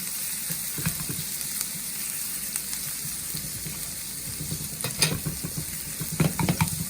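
Chopped ginger and garlic sizzle steadily in hot oil while being stirred, a close continuous frying hiss with occasional scrapes and clinks of the utensil toward the end.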